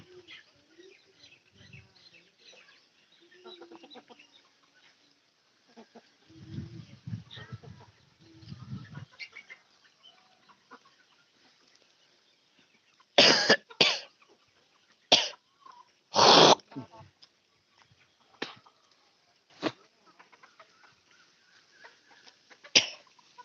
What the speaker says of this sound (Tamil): பாருங்க சேவல் என்ன சவுண்ட் விடுது பாருங்க